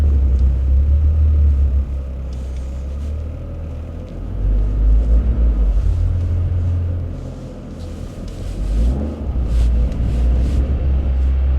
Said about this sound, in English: So the wheels are spinning and then they get traction and they stop